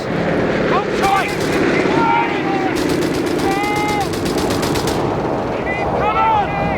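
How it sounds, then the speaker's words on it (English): Dense machine gun fire and explosions fill a Company of Heroes 3 battle, loud and continuous, with rapid bursts layered over rumbling combat while soldiers shout in the game. "MG's hitting us!"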